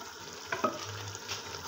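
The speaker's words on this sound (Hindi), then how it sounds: "अब ये मैंने दाल जो उबाल के रखी हुई अलग से ये ऐड करने लगा हूँ।" Boiled lentils tipped into meat frying in a pot for dal gosht, giving a soft sizzle with a couple of quick stirring scrapes, close and moderate in level.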